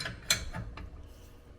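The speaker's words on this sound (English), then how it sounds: "tighten up the nut, the locking nut" A locking nut on a hitch clamp being tightened with a 15/16 open-end wrench, giving a few quiet metallic clicks and ratchety ticks in quick succession, close and faint.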